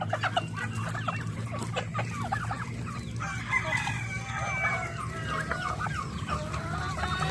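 Chickens on a farm cluck and chatter busily at feeding time while a rooster crows, a lively mix of close and farther calls over a low steady background hum.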